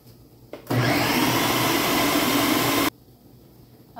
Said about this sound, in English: We are going to blend this up in the food processor until it is liquid.